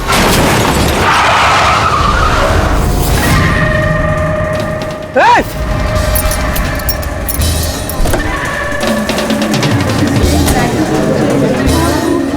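A car in a Hindi crime drama skids to a sudden stop, a loud tire screech lasting about a second amid busy street noise and music, with people talking around it.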